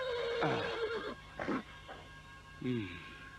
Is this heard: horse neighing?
yes